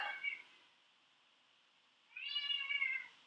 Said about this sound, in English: Don't know what the cat is on about, but he's usually pretty noisy.